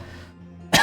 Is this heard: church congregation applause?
no